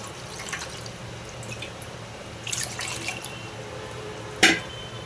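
Water is poured and splashed over freshly made rasgulla to rinse them, giving soft close trickling and dripping with a brief louder splash near the end, no talk.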